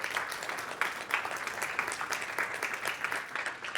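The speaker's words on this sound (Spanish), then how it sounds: "Un otro aplauso para Alejandro." An audience at a talk on open-source vision language models for smart glasses applauds, a steady, moderately faint wash of many hands clapping that continues throughout without a break.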